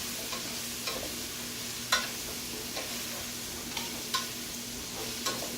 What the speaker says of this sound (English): now we're going to stir fry this stuff up.